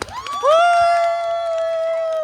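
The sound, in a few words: audience applause and cheering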